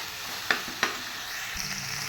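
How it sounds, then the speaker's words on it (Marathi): A garlic-ginger paste sautés with onion and tomato in a pan: a soft, even sizzle runs throughout, punctuated by two quick clinks of a spoon early on. "कांदा आणि टोमॅटो परतल्यानंतर मी याच्यामध्ये छान असं बारीक करून घेतलेला लसूण अद्रक पेस्ट टाकलेली आहे"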